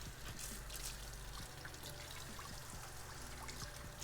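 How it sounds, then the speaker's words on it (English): Tap water running steadily as a cheese grater is rinsed in a kitchen sink, a continuous soft splashing trickle with faint clinks, close and quiet. "Just gonna rinse this off."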